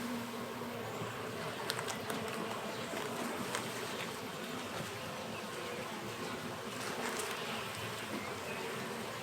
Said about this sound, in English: Some bees checking it out.